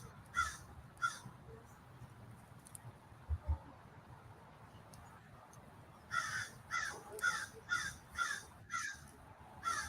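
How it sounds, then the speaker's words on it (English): A crow caws repeatedly overhead near a tombstone in a graveyard, first two separate calls, then a rapid run of about six harsh caws, all over faint outdoor background noise. "There's a crow right over me there."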